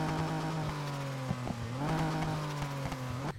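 Nissan Fairlady 240ZG '71 in Need for Speed Heat, fully upgraded: a close engine-exhaust note held at a steady idle-like pitch, briefly blipped up a few times in quick revs, with no talk.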